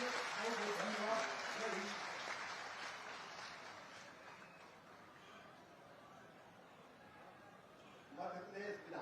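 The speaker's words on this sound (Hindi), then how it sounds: "एक बार इतनी जोरदार ताली बजाइए" Crowd applause at a political rally in Devtalab, Rewa district, Madhya Pradesh: dense clapping from a large audience, loud at first and slowly fading over several seconds, with a voice on the sound system breaking in near the end.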